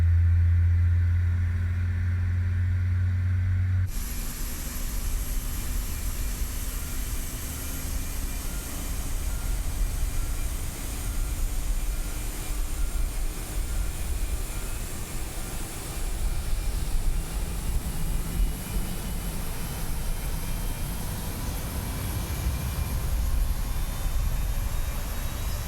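The left engine of an Aerosoft CRJ regional jet spools up in MSFS 2024, a steady cabin-like roar with a slowly rising whine that holds for over twenty seconds with no talk.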